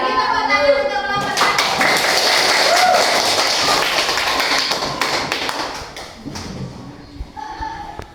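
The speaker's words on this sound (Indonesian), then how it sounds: "Beri tepuk tangan untuk kelompok" A group bursts into applause, clapping loudly for several seconds before it tapers off, with voices talking before and after.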